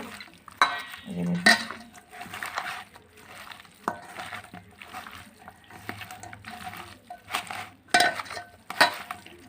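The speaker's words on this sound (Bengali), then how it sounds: "পেঁয়াজটা দিয়ে দিলাম এবার ভালো করে মাখিয়ে নেব" Chopped onion mixed by hand with turmeric and spices in a bowl, heard as soft squelching and rustling, with a few clinks of utensils against the bowl, close up.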